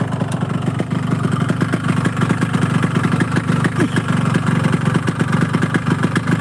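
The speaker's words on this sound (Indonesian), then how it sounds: "Suara mesinnya, ini suara pistonnya" A Yamaha RX two-stroke motorcycle engine idles close by with a rough, rapid, even beat and audible piston noise, steady throughout with no speech.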